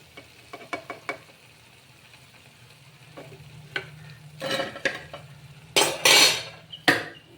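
Mirchi bajji, chilli fritters, frying in hot oil in a pan: scattered utensil clicks and stirring scrapes, then loud bursts of sizzling as the fritters are moved, with no talk.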